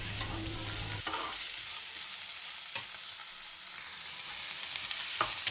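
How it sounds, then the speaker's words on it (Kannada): Chopped onions, stained beetroot red, fry and get stirred in a pan: a steady sizzle with occasional spatula knocks and scrapes against the metal, no voices. "ನೆಕ್ಸ್ಟ್ ಕಟ್ ಮಾಡಿರುವಂಥ ಈರುಳ್ಳಿ ಹಾಕ್ಕೊಬೇಕು"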